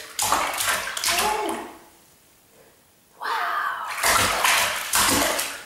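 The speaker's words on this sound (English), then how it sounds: "Are you going to splash some more?" A small child splashes water in a bathtub, with bursts of loud close splashing separated by a quiet pause, and an adult voice briefly exclaims between them.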